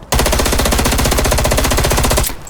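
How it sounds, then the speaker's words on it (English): An assault rifle in the video game Black Ops Cold War fires at a wall in one unbroken, loud stream of rapid automatic fire lasting about two seconds, then cuts off. "We're gonna shoot a wall real quick."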